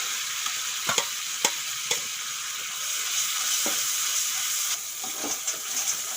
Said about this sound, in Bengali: খুব ভালো করে মশলাটা কষিয়ে নিয়েছি